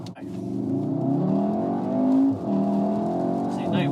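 A VW Golf R accelerates hard without wheel spin, its engine note climbing steadily in pitch through the gears, loud and close from inside the car, with people talking over it.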